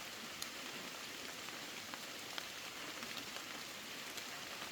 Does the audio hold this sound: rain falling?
yes